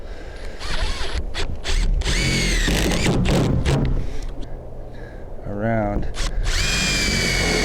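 A power drill drives rubber-gasketed roofing tech screws in several loud, close bursts, its motor whining and rising in pitch as each screw seats, with a short spoken word between runs.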